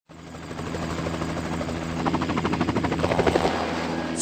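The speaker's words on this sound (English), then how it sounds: "The helicopter will be there in minutes." Helicopter in the video game Where in the World Is Carmen Sandiego, its engine whine building into a rapid rotor thump that grows louder and more distinct as it approaches, heard alone.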